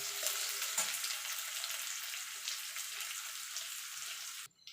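Onions frying lightly in oil for masoor dal, a steady close sizzle with faint stirring that runs alone before cutting off abruptly at the end.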